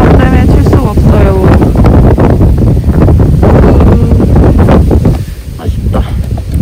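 Strong gusting wind roars across a mountain ridge during a backpacking trek, loud and continuous buffeting of the microphone with brief lulls near the end.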